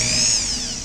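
A drill spins a valve grinding tool against an exhaust valve from an Audi A4 2.0 TFSI engine, giving a short, high, steady whine that holds briefly and then slowly eases off, close and clear.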